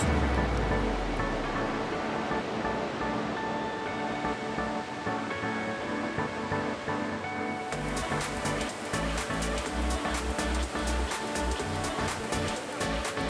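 The Zambezi River flowing near Victoria Falls, a dense steady roar of rushing water that fills the whole clip, loud and unbroken, with no voices.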